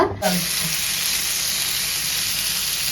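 Fish coated in mixed masala fries in a pan with a steady, loud broadband sizzle that holds throughout, with a brief soft knock at the start as a piece is turned by hand.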